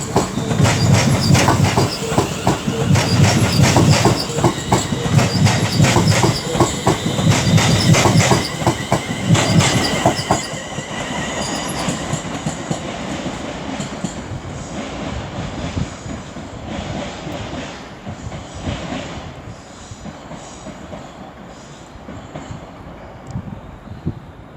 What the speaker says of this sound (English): now departing, just over a minute late, will be the 15:39 London Northwestern Railway service to Milton Keynes Central